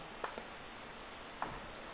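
Self-timer beeps from a Canon 550D camera: three short, faint electronic tones spaced roughly half a second apart, with soft handling clicks underneath.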